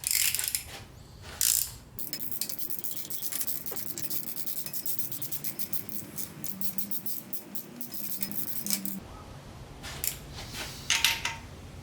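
A hand ratchet tightens engine bolts on a K-swapped Nissan Cefiro, with rapid clicking strokes in repeated bursts, close and crisp against a quiet garage.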